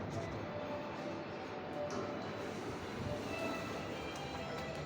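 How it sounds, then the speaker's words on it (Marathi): At Akola railway station, a train gives a faint, steady broadband rumble that holds evenly throughout, with no voices. "आणि हा अकोला रेल्वे स्टेशन"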